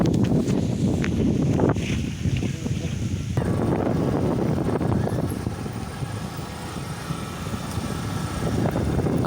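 Wind blowing across the Jamuna river, a steady broadband roar buffeting the microphone for the whole stretch, with a faint engine rumble underneath and no clear speech.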